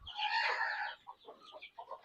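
Native country chickens on a poultry farm cluck close by, one long loud squawk followed by several short clucks and murmurs.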